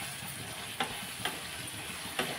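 A spoon stirs capsicum egg curry frying in a pan, giving a soft steady sizzle with three distinct scraping strokes spaced through the clip, close and unaccompanied by talk.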